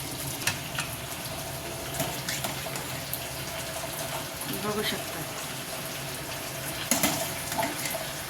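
Water runs and splashes steadily as it drains out, with a brief spoken remark and occasional clinks.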